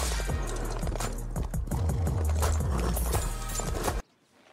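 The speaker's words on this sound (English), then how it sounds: "That's a big ass horse, bro." Horse hooves clip-clop in a steady, close, fairly loud rhythm in Red Dead Redemption 2, then cut off abruptly near the end.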